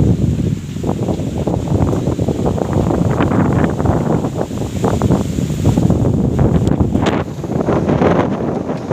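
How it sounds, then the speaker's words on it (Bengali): Strong wind blowing outdoors under a bad sky, a loud continuous rushing roar buffeting the microphone with gusty swells and no voices. "চারপাশে প্রচুর হাওয়া পড়ছে আমার"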